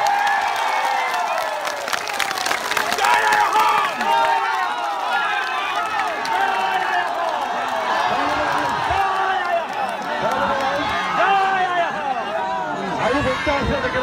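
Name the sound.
protest crowd applauding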